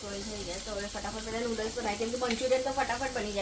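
Boiled noodles stir-fry in a pan with capsicum and cabbage, a steady moderate sizzle running throughout beneath a person's voice.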